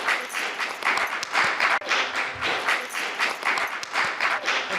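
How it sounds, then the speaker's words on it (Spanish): Audience applause for the panelists at a youth interreligious session on fighting racism, held in a conference ballroom: dense, steady clapping that carries on without a break for about five seconds and rises and falls slightly in loudness. "Podríamos aplaudir, dar un aplauso a los panelistas."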